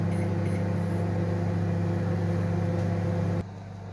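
A steady low mechanical hum runs continuously as a microwave oven heats jollof rice, then drops off abruptly near the end, leaving a quieter background.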